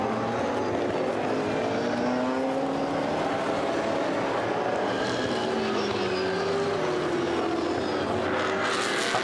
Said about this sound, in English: Up towards turn 14 now goes the safety car.